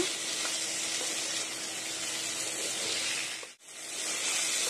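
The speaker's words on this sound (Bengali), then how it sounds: "তো দেখুন মাংসটা আমার কষানো হয়ে যাচ্ছে, আমি আর 2 মিনিটের মতো একটু ভালোভাবে কষে নেব।" Chicken pieces fry in oil for khichuri, giving off a close, constant hissing sizzle that dips briefly to near silence for a moment before resuming at full strength.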